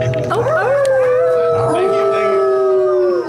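Several dogs howl together in long, wavering, rising and falling cries with a few yips mixed in, loud and close.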